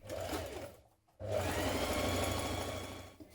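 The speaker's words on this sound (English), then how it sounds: "you're going to stitch your two pieces of your waistband together along this top edge" A sewing machine stitches two waistband pieces together along the top edge, a steady close whir that halts briefly for a moment of near silence, then resumes in a long continuous run.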